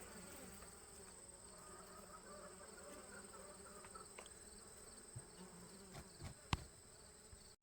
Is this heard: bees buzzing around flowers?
yes